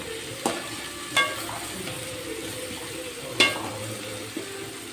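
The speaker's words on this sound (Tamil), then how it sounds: "தக்காளி வெங்காயம் வந்து நல்லா வதங்கிடுச்சா" Tomatoes and onions sautéing in a pan, a soft steady sizzle under a few sharp stirring clinks and scrapes, close and fairly quiet.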